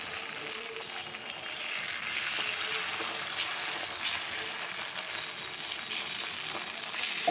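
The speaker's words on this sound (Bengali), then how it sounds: "আমি তাওয়ায় এটা দিয়ে দিলাম গোলাটা সেইটা এখন আমি ছড়িয়ে ছড়িয়ে দিয়ে দেবো" Egg batter for Moghlai paratha sizzles steadily on a hot tawa, a continuous close hiss with no talking.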